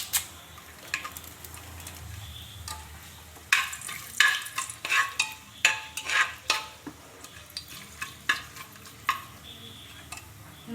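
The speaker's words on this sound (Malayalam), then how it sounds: "നമുക്കിതിലേക്ക് സവാള ചേർത്ത് കൊടുക്കാം." Onions stirred and fried in a pressure cooker for biryani, with cardamom, cloves and bay leaf in the oil; a soft sizzle runs throughout while sharp scraping spoon strokes come in a rapid series in the second half.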